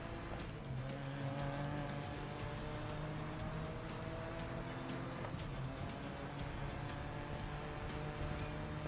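Race cars roaring through GRID Legends on Xbox: a steady, loud, dense drone of several revving engines with shifting pitch, squealing tyres and a car whooshing past, no voices over it.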